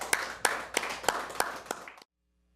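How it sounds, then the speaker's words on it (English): Hand clapping from a studio audience on a talk show: a steady series of distinct, evenly spaced claps, fairly close and crisp, that stops abruptly into silence. "can we have a big round of applause"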